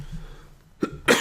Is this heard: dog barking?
no